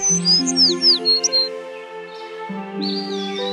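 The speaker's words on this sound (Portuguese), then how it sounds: "De manhã, Branca de Neve acordou com pássaros cantando e muitos animais à sua volta." Birds chirping and singing in the morning in a fairy-tale forest scene, bright high tweets and short whistled calls over a sustained musical background.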